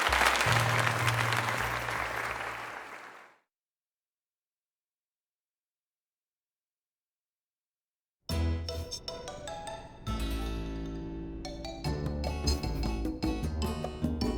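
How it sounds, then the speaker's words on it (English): A few seconds of loud crowd applause after a tournament win in Pokemon Legends Z-A that cuts off into silence, followed by upbeat game music. "let us give another heartfelt round of applause to GS."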